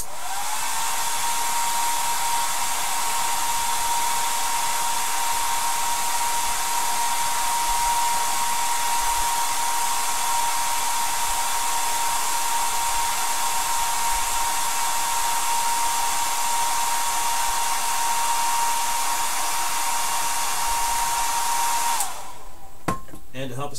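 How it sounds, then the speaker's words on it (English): A hair dryer whirs steadily on high while drying salt-chipping work, a loud, constant blowing drone with a pitched whine that runs unbroken before cutting off near the end. "Now that it's starting to dry, I'm going to turn the blow dryer up."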